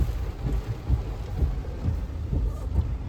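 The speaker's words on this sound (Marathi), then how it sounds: "पाऊस तर लय बेकार आहे" Heavy rain roars close by at Mapro Garden in Lonavala, punctuated by low rumbling gusts and buffeting thumps.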